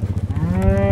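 A cow moos once in a short, low bellow that rises into a clear tonal call, close by in a pasture of cattle.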